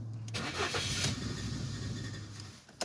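A 2006 Ford Focus with hard starting, misfire and heavy engine shake cranks and fires up nearby, its starter whirring briefly before the engine catches and settles into a rough idle.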